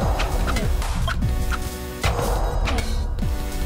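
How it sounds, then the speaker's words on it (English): A chicken in the Wand Wars video game clucks repeatedly in quick, loud bursts, backed by busy game sound effects and music. "Oh, God, chicken, chicken, chicken!"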